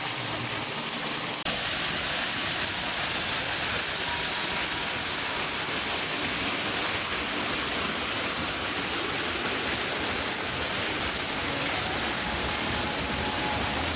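Water pours steadily from a waterfall on the Jungle Cruise at Disney's Animal Kingdom, a constant broadband rush that stays loud and even throughout with no talking.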